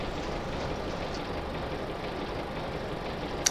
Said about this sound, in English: Now, what I am going to do, however, is shut our baler off.